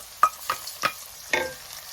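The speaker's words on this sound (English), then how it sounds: "In goes our onions and our garlic" Onions and garlic drop into hot melted coconut oil and are stirred, giving four sharp sizzling bursts with short scraping strokes between, close up and fairly quiet, with no voices.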